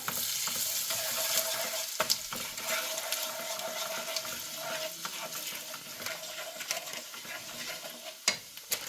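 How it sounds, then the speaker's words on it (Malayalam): Beef pickle masala with turmeric and pickle powder is stirred in a pan, a continuous scraping sizzle with a few sharp utensil knocks against the pan, steady and close with no talk. "ഇനി നന്നായി ഇളക്കി കൊടുക്കുക."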